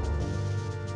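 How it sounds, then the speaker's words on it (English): A bridge extending in the Zelda: Minish Cap video game, a brief sustained tonal game sound effect heard alone and steady throughout. "the sound of the bridge extending for me to get over here"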